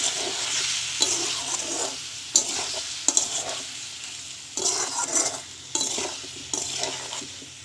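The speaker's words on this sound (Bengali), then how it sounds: "একটু সাঁতলে নিচ্ছি" Taro stem curry sautéing in a pan, a soft steady sizzle with repeated scraping stirs of a spoon against the pan at irregular intervals, close but fairly quiet, no talking.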